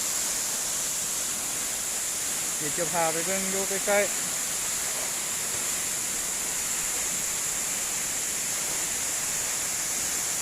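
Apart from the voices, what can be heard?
waterfall at Tat Yot Suang, Ban Tham, Vientiane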